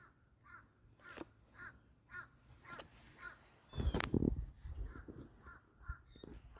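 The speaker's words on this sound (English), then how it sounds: "Look at our birds." Crows caw outdoors in repeated harsh calls at moderate distance, a rhythmic series of single caws over quiet background noise, with a brief louder rustle or burst midway.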